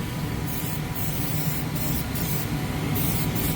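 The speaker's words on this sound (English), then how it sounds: "I think I'm going to spray it right now" 3M contact adhesive sprayed from an aerosol can onto a panel during a white oak kitchen remodel, a steady close hiss broken by short pauses in the spray, with no talking.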